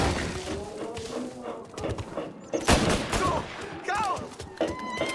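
Gunfire in Mafia Definitive Edition crackles as a close volley of sharp shots with crashing impacts, mixed with shouting voices.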